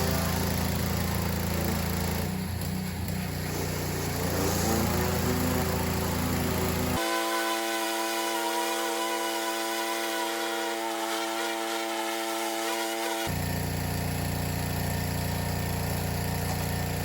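Pressure washer surface cleaners, a 15-inch Ryobi and a 12-inch Hyper Tough, run over natural stone with a loud continuous engine drone and hissing spray, switching midway to a different, more tonal motor hum before the first roar returns.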